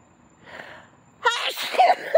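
A person sneezes twice in quick succession at home, a soft breathy first sneeze followed by a louder, sharper second one, close to the listener.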